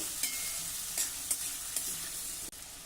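Salted spiny gourd (kantola) being stirred in a pan, with soft sizzling and several light spatula scrapes and taps at regular intervals, fairly quiet throughout.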